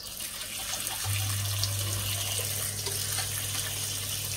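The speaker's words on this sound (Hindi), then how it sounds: "अब मैं ऊपर से फुल पानी खोल रही हूँ।" Tap water runs steadily at full flow, splashing over bitter gourds in a basket, with a low hum starting a second in; close and continuous, no voices.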